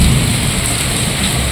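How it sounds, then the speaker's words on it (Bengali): Heavy downpour flooding a neighborhood, a dense, loud continuous roar of rain with a deep rumbling undertone of thunder, no voices. "এই দেখো কেমন বৃষ্টি, দেখো পুরো পাড়া আমাদের পুকুর হয়ে গেছে।"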